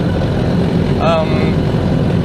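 A Ford Model A engine lugging up a hill, a steady low rumble close by with a brief whine midway and a voice talking over it.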